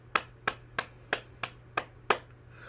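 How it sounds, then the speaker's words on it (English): Hands clapping during a morning movement session: seven sharp, evenly spaced claps close by, each a crisp isolated crack, with no talking. "And then clap your hands to stimulate your heart."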